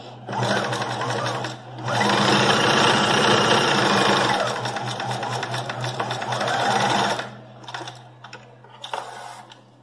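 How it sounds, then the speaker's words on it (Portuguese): A sewing machine topstitches a bag pocket close up, running in long continuous bursts with a brief pause between them, then a few short stitching spurts near the end. "a gente vai passar uma outra costura para fazer o acabamento e ele não ficar assim tão armado. É só um pesponto."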